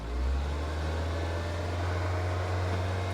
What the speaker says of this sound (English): So if we rev this, just give it some throttle here